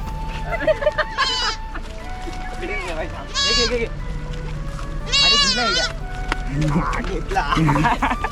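A small goat in a Konkan village bleats in several loud, wavering calls as it is chased and caught, with people talking throughout.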